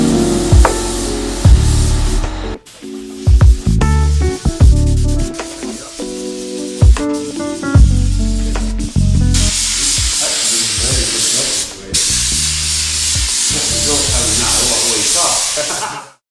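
A spray gun paints a car bumper with long, steady bursts of hissing spray, broken by short pauses and some clatter from handling the gun.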